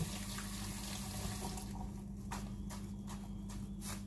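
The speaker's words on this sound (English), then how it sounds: "so wash my hands" Hands are washed under a running kitchen tap, a steady close rush of water with soft splashes and rubbing, continuous and fairly loud with no speech.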